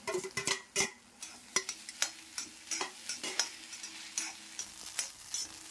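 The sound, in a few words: stirring scrambled egg with cooked soya in a pan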